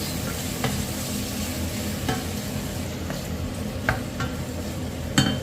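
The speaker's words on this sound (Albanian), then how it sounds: "i përzijem, i skuqim bashkë" Shrimp fry and sizzle steadily in a pan for pasta, with occasional scrapes and clicks of stirring, close and continuous with no talking.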